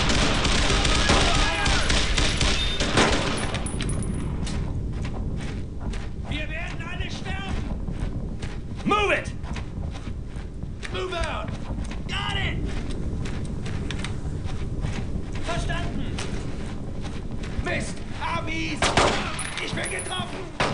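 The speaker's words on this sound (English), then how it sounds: "Suppressive fire!" Suppressive machine gun fire in the World War II shooter Brothers in Arms: Road to Hill 30 crackles in constant bursts amid battlefield noise, with soldiers shouting over it.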